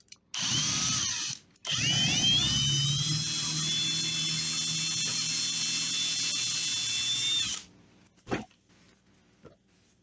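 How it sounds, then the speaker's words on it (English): A power drill whines loudly at high speed drilling into birch wood for a prop fishing bait, stops briefly, then runs again for several seconds before cutting off, followed by a few small knocks. "that's where I'm going to drill and add my weight"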